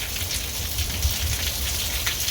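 Steady rain pours down outdoors, a close, continuous broadband hiss of drops with no one speaking over it.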